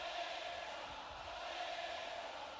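WWE SmackDown arena crowd cheering for Alexa, a steady distant roar of many voices holding at an even level throughout, with no single voice standing out.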